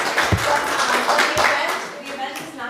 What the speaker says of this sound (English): Let's have a round of applause for Miranda